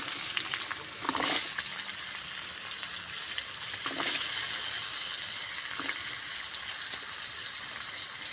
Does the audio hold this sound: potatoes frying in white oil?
yes